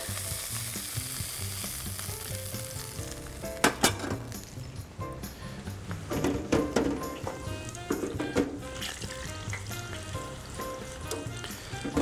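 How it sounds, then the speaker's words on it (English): Breadcrumbed onion rings frying in a deep fryer, a continuous close bubbling sizzle with sharp crackling bursts and a few clatters, no talking. "we're just going to finish those off in the deep fryer and crisp them up"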